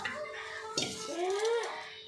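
Kitchen dishes and utensils clink and knock together during a home kitchen clean-up after dinner preparation, a few close, light metallic and ceramic strikes over quiet room tone.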